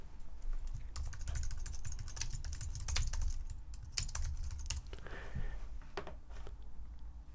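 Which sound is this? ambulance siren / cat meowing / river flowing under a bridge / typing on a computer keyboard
typing on a computer keyboard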